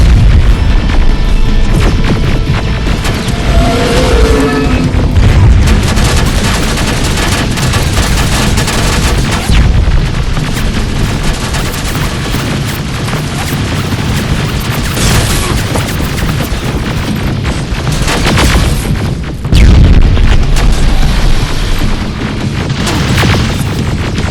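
Loud, dense shooting and booming blasts in Terminator: Resistance run continuously, with heavy low rumble and layered impacts throughout.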